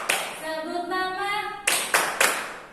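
A few sharp hand claps ring out near the end of a school morning greeting song, following a sung voice.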